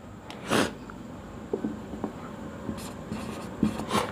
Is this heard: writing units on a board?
yes